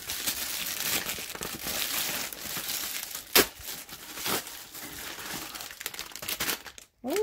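Crinkly plastic mail package being torn and opened to get at a seam roller, a steady close crackle and crumple with a sharp tearing burst partway through and no talk.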